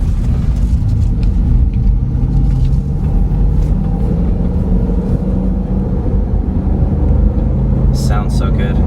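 A car engine rumbles low and close as the car pulls away and picks up speed, a steady throaty drone with a brief higher sound near the end.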